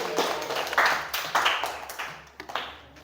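Classroom applause for two student groups during a teaching session: scattered hand claps in uneven bursts, moderately loud and close, fading out toward the end with little talk.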